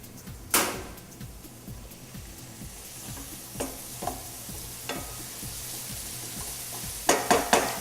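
Wild mushrooms sauté in oil in a pan, with a low steady sizzle under scattered sharp knocks and scrapes of a utensil, including a loud clack near the start and a quick cluster of taps at the end.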